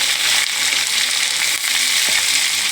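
Onions and green chillies fry hard in a pan for a spicy potato palya, a loud, dense, unbroken sizzle up close with one brief stir partway through.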